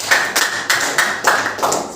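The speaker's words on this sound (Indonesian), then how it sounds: "beri tepuk tangan untuk kalian semua" Students in a vocational high school Indonesian-language class clap together in a few short, evenly spaced bursts, roughly five rhythmic group claps, close and fairly loud in a small room.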